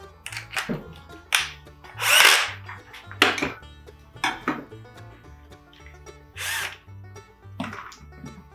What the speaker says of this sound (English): And then attach the screws.